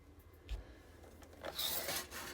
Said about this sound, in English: I'm going to use my trimmer just for a neater edge